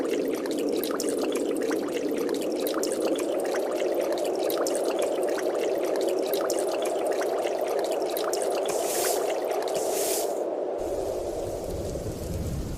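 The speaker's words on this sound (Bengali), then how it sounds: "বলতে না বলতে দেখছি বৃষ্টি চলে এসেছে" Steady, loud cartoon rainfall hisses continuously over a river where a fisherman in a broken boat is out catching hilsa, with occasional brighter splashy bursts and the wash cutting off near the end; no one speaks.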